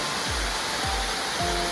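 The Lower Falls waterfall at Robert H Treman State Park pours in a constant, broad roar, heard from below with no break in the rushing water.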